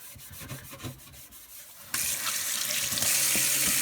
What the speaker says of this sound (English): you can spread that pasty baking soda all around